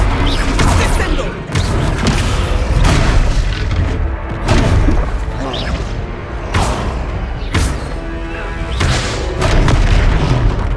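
Descendo spell impacts in the Hogwarts Legacy video game land as heavy, loud booms and thuds, repeated about every second or two over a dense rumbling battle bed, with no clear speech.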